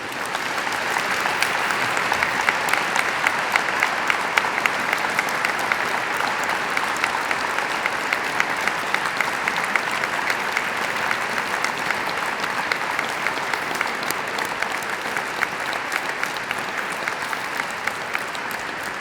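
An audience claps for three speakers at a business peace award ceremony, sustained, even applause with crisp individual claps running steadily for nearly twenty seconds, moderately loud and unbroken.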